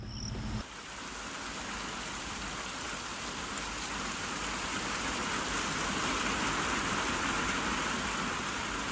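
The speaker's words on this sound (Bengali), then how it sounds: "একেবারে হুড়মুড়িয়ে বৃষ্টি এলো" Heavy rain pours down steadily at Jharkhali in the Sundarbans mangroves in a dense, continuous roar that swells slightly over time, with no voices.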